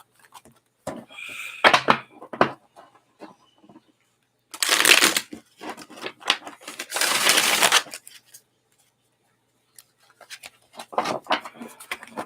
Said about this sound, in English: Get these things shuffled up. This is a brand new deck.